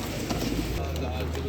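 Pigeons coo at a pigeon market in downtown Amman, Jordan, soft repeated calls close by amid a busy background with people talking.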